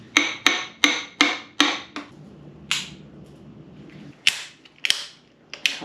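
A hammer handle taps a connecting rod into a GMC 302 inline-six engine block with sharp, close knocks: a quick run of five or six, then a pause and a few scattered hits.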